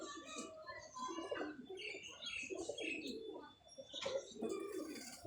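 A female pigeon coos in low, soft, rolling calls at a pigeon loft, with faint chirps and rustling around it, the sound quiet and fairly close.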